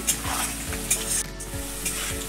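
Onions fry in a pan with a steady close sizzle, broken by three or four rhythmic scraping stirs of a spatula against the pan.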